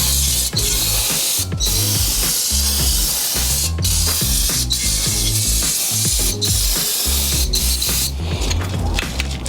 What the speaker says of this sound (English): Spray some WD-40 on this as well.